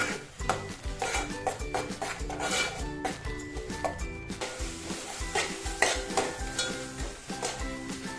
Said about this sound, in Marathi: ती संपूर्ण आपण ह्यात घालून घेऊ आणि हा आपण टोमॅटो पूर्ण शिजवून घेऊ